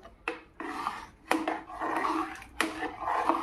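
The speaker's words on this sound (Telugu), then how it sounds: "బాగా కలుపుకోవాలి మనం" A spoon scraping and knocking around a pot of bottle gourd payasam in a village kitchen, four bursts of stirring with short clattering strikes at the start of each, close and moderately loud, with no talking.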